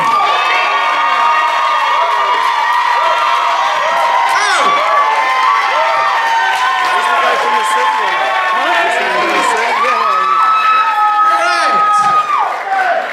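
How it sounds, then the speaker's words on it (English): Comedy-show crowd in a beer garden cheers, whoops and shouts loudly and continuously for comedian Brendan Ryan, with many voices overlapping throughout. "Please, big round of applause for Brendan Ryan."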